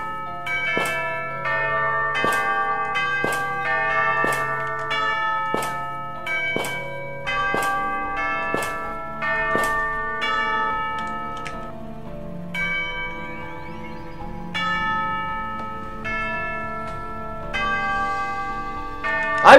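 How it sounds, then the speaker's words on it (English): Bells ring in the video game Master Reboot, a series of resonant tolls struck at a steady pace, each note ringing out and overlapping the next, clear and prominent with no voices. "I didn't notice the bells up there."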